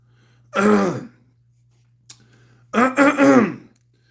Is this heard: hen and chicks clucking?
no